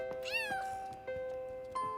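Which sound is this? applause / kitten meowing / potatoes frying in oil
kitten meowing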